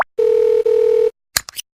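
A telephone call to a husband produces two loud, clean, steady tones in a row, then a few brief clicks and static bursts from the line, with no voices.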